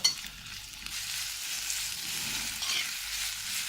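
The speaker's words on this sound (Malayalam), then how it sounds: "എല്ലാം കൂടെ ഒന്ന് നല്ലപോലെ വഴറ്റുക." Chopped onion, ginger and garlic sautéing in a pan for a restaurant-style fish curry, a steady close sizzling hiss with soft stirring movement and one quick knock at the start, no speech.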